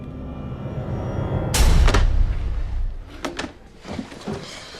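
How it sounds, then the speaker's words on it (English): A metal school locker door slams shut with one heavy thud, followed by a few lighter rattling clacks as it settles, heard alone without talk. "it's the sound of a locker closing."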